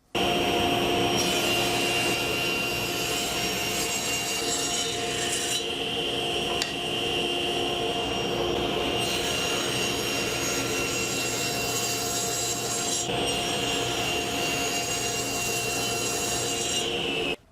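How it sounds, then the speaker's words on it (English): A table saw rips along the rough edge of a wooden board, a loud, sustained, close whine and rasp that holds steady for the whole stretch with slight shifts as the cut progresses. "So I'm just going to clean up the rough side here on the table saw"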